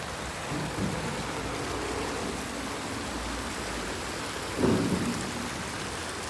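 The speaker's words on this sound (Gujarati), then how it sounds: "વરસાદ ઝીણો ઝીણો ચાલુ છે" Steady unseasonal rain falls continuously, with a low rumble of thunder breaking through partway.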